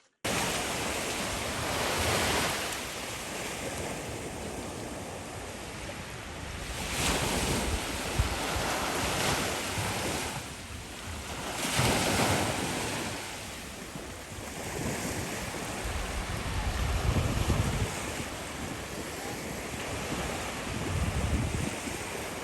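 Sea waves on the beach at JW Marriott Phuket, Thailand, roll in as a steady, full surf roar that swells and eases in slow surges, with wind buffeting the microphone throughout.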